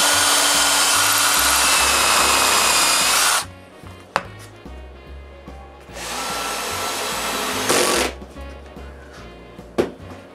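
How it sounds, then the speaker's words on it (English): A power drill whines loudly through plywood in two long bursts, drilling chamfer holes for a jig, with quieter handling knocks and clatter in the pause between them. "I drill 4 chamfer holes and screw it together"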